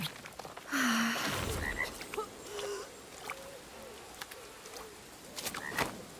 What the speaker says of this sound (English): That's one huge toad.